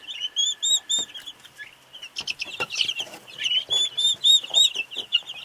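Free-range chickens and broad-breasted white turkeys cluck and chirp nearby in short, overlapping bursts.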